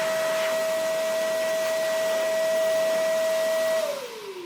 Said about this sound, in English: So as you can see, it can be a vacuum or it can blow as well.